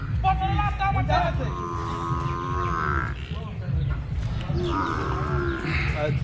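A water buffalo at a livestock market lets out two long, drawn-out bellows close by, over a busy background of crowd chatter and murmuring voices.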